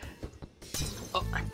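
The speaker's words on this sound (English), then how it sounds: "we're just smashing fluorescent light bulbs, like, no tomorrow" Fluorescent light bulb smashing in the video game Night in the Woods, heard as a few sharp shattering crashes in quick succession, fairly loud with brief glassy debris after each break.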